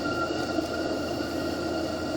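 A G-scale model train running steadily, giving a constant rolling hum with a faint metallic whine and no speech.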